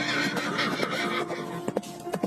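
A horse neighs loudly and close up, with a long whinny over a faint clip-clop of hooves as a prince rides in on horseback.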